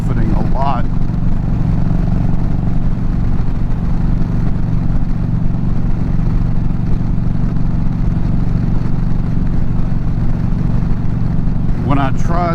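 Wind buffeting a motorcycle rider's helmet while riding without a windshield, a loud continuous low roar blended with engine drone throughout, with brief voice sounds near the start and end.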